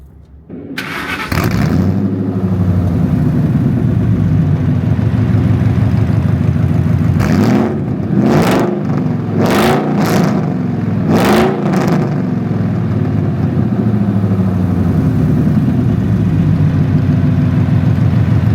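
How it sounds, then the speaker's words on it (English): A 1999-2004 Ford SVT Lightning pickup with a muffler delete cold-starts loudly, settles into a deep rumbling idle, then gets several sharp revs in a quick cluster before dropping back to a steady idle. "I just gave you guys a little bit of a rev"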